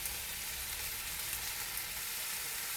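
The white part of spring onion sizzles and fries in a pan with chicken, a steady, even hiss with no talking.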